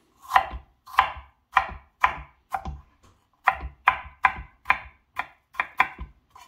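A knife cuts apples into small cubes on a cutting board, about a dozen crisp, sharp chops in a quick, uneven rhythm with short pauses between them, close and clear with no talking.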